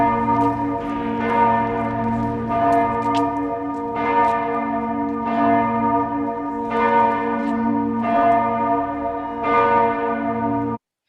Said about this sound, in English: The two bells that you heard that at the end of that are these ones. I'll play them together.